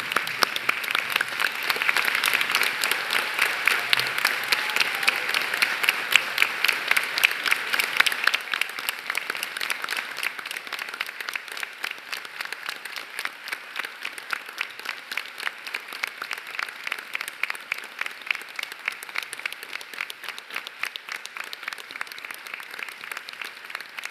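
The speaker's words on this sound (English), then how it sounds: "everyone else joins me, stands and applauds the wonderful achievement of these graduates" A graduation ceremony crowd at the University of Newcastle in Australia stands and applauds the graduates: sustained, dense clapping from a large hall audience that holds steady for a long stretch before gradually thinning toward the end.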